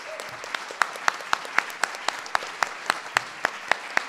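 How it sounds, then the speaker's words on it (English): Audience at a public forum on protecting the coast from offshore oil drilling claps steadily together, a continuous run of applause with sharper individual claps standing out, no talk over it. "Please give yourselves a round of applause"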